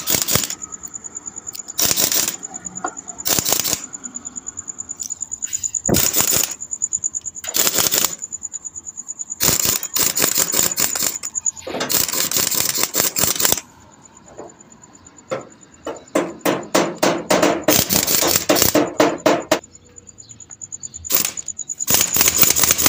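An impact gun gives final tightening to a bolt on a Toyota Hilux engine during timing work, firing in repeated sharp, loud bursts of rapid hammering with quiet gaps between them.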